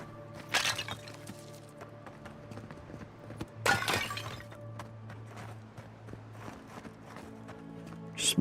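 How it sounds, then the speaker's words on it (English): Clay pots shattering in the Wildwoods of the video game Avowed, with two sharp breaking crashes about three seconds apart over a low game ambience and music. "Smashing some pots."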